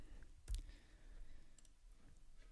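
A single computer mouse click sounds close and faint against near-silence, a short sharp tick about half a second in.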